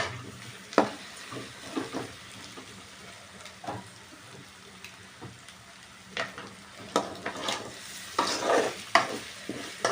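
Chopped boiled eggs being stirred into onion masala in a pan, with scraping spoon strokes and soft sizzling; irregular stirring clatters come and go, growing busier toward the end, close and fairly quiet.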